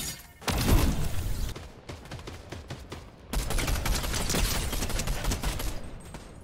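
Rapid pistol shots ring out in a Fortnite match, a dense run of cracks that thins briefly mid-way and then resumes steady and loud, with no talking.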